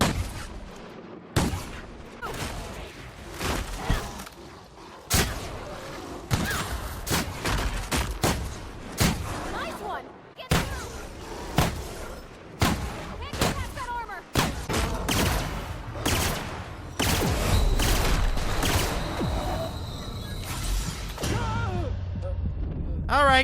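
Dense battle gunfire from The Outer Worlds, a tactical shotgun and a bolter pistol firing in rapid bursts against a primal behemoth, loud and nearly continuous with heavy booming impacts and clattering reloads throughout.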